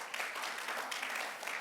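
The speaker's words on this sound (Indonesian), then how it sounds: "Yang setuju tepuk tangan yang panjang bagi Tuhan" A church congregation at a worship service breaks into sustained applause, a dense, even wash of many hands clapping that lasts throughout, moderately distant and fairly quiet.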